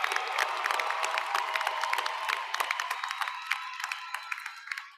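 An audience at the Maple Heights City Schools Class of 2024 graduation ceremony applauds the graduating students with steady, dense clapping and scattered cheers and whoops, sustained throughout and fading slightly toward the end.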